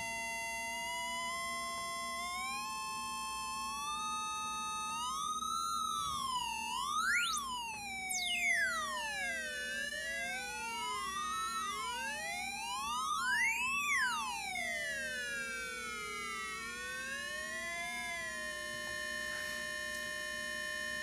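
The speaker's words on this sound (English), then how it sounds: "So when I put them together, you can hear two separate tones." Two steady electronic tones from two 555 timers play together through one speaker, their pitches sliding and sweeping up and down, continuous and fairly loud throughout.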